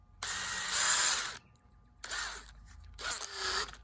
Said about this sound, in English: You put this end into the drill,